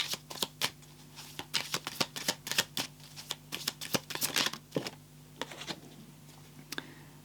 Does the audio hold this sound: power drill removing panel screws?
no